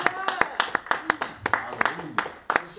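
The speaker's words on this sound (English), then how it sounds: "Come on, clap your hand for Jesus." A worship congregation claps hands in a steady, brisk rhythm, sharp broadband claps repeating roughly every third of a second, with voices speaking and calling out over the clapping.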